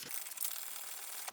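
A short, brisk scrubbing rasp of a sponge rubbed hard to remove spray paint from a rough surface, steady for just over a second.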